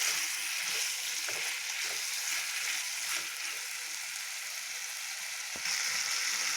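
Chicken liver with spices sizzles and fries over a high gas flame, a steady loud crackle broken by occasional scraping stirs of a spoon in the pan.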